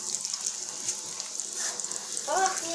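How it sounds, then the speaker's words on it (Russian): Syrniki, cottage cheese pancakes, sizzle and crackle softly in a frying pan, a steady quiet hiss throughout with a faint voice near the end. "Ну вот и все, теперь жарится."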